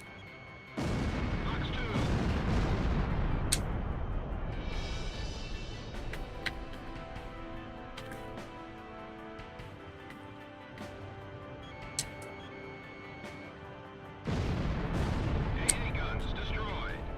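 Anti-aircraft guns firing in Ace Combat Zero, with a low, rumbling barrage that comes in two long loud stretches and sharp pops between them. A brief spoken line sounds over the gunfire.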